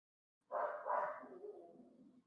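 A dog barks once or twice close by, a sudden loud bark that fades into a softer trailing tail, with no other sound around it.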